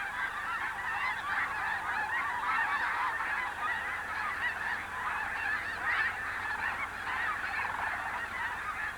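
A large flock of snow geese honks continuously at Bosque del Apache wintering grounds, a dense, steady chorus of overlapping calls at even loudness with no voices.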